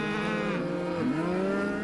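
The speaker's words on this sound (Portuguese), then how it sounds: "Ele viu uma vaca visivelmente desesperada." A cow in visible distress, foaming at the mouth, gives a long, close, strained moo that wavers and bends in pitch, with no other voices.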